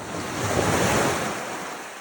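Ocean surf washing onto the shore, a steady broadband roar of breaking waves with wind buffeting the microphone, swelling slightly mid-clip and staying close and continuous.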